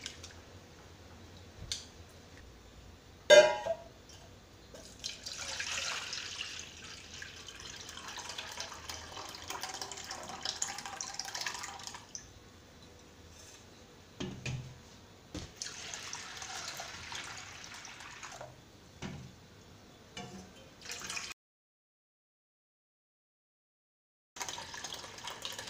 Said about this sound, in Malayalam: നമുക്കിനി ഈ ഉഴുന്നിൻ്റെ തൊലി ഒന്ന് കഴുകി വൃത്തിയാക്കി എടുക്കാം.